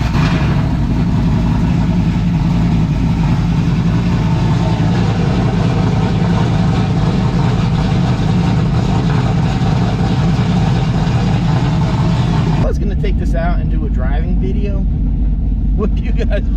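A car engine with 91,000 miles runs steadily at about 2,000 RPM with a deep, continuous rumble for most of the stretch, then drops off abruptly near the end.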